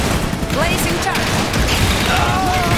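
Gunfire and explosions in the video game Iron Harvest form a dense, loud battle din of rapid shots and crashes, with shouted voice lines over it.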